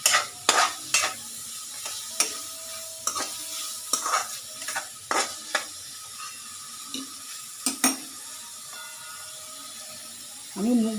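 Chopped vegetables stirred and sautéed in a pan for a Maggi noodles khichuri, with repeated scraping strokes of a spatula at an uneven rhythm over a low sizzle, close and fairly loud, no talking.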